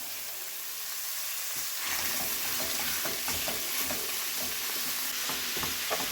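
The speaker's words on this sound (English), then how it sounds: "We'll get this all browned up and the onions al dente" Ground beef and onions browning in a pan: a quiet start, then a steady close sizzle with stirring scrapes and crackles for the remaining seconds.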